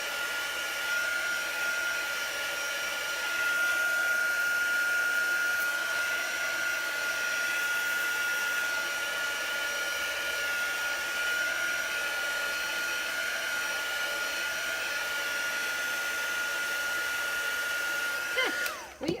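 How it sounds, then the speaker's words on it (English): A heat tool blows steadily and loudly for about eighteen seconds, drying chalk paste on a Chalk Couture craft project, then cuts off abruptly at the end. "let's give this a quick shot of heat so that we dry that off."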